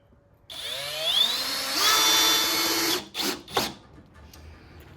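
A power drill with a Torx bit drives Torx-head screws into pallet-wood boards for a garden planter. A sustained whirring run climbs in pitch over a couple of seconds, then two short, sharp bursts follow close up.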